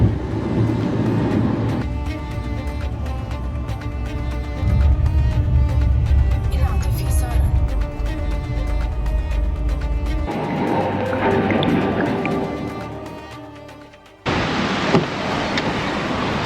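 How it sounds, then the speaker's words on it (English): Taxi ride into a city center, the car's steady low road and engine rumble filling the cabin, then easing off and giving way to a brighter, noisier background near the end, with some talk. "Now taking a taxi to the city center to my hotel."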